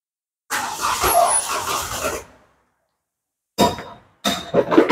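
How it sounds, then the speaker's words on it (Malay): A Naza Citra car with an unstable idle and a glowing red catalytic converter: a loud, rough engine burst lasts about two seconds, followed by silence, then two short bursts of engine noise close by. "So kita akan start ni kereta, insyaallah mudah-mudahan kereta ni dapat bekerja dengan baik."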